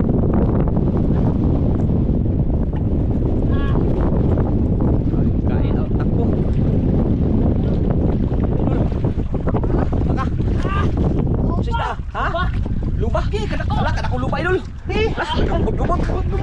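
Strong wind buffets the microphone at sea during a fishing trip, a steady roaring rumble with boat and water noise, while men call out and talk throughout.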